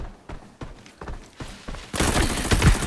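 Gunfire in the shooter game Arena Breakout: a series of sharp single shots at an uneven pace, then a dense, loud, continuous burst of rapid fire in the final second.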